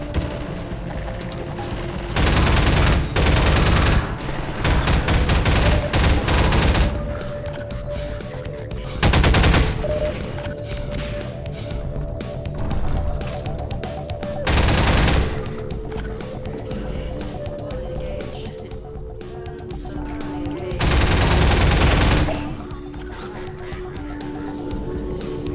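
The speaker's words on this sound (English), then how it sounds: "Start breaching with machine guns and shotguns" Machine gun and shotgun fire ring out in Half-Life 2 during a breaching fight: long, loud bursts of rapid automatic fire broken by single sharp blasts, with game noise between the volleys.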